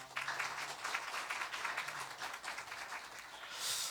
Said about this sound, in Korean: 연유린 전도사님, 우리 전별금 좀 전달하는데 우리 격려의 박수 부탁드립니다